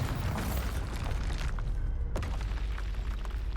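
A Bombarda spell explodes in Hogwarts Legacy, a loud, dense burst of noise with a booming low end and a sharp crack partway through, set against continuous game sound.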